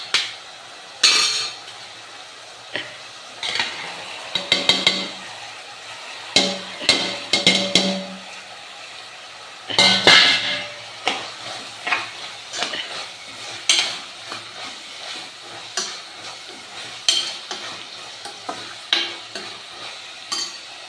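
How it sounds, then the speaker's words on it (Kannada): Vegetables are stirred in a pot of mint pulao, with repeated scraping and clinking of a spoon against metal over a soft sizzle, irregular strokes spread across about twenty seconds, close and fairly loud. "ನನ್ನ ಹತ್ರ ತರಕಾರಿ ಇರುವ ಕಾರಣ 4 ತರಕಾರಿನೂ ಹಾಕ್ತಾ ಇದ್ದೇನೆ."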